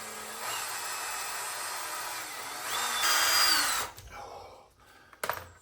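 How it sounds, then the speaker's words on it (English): A power drill boring out a stuck Tesla brake pad pin, a steady high whine that surges briefly before cutting off, followed by a few short clicks. "Now resorting to actually drilling it just to find the actual punch hole to start with"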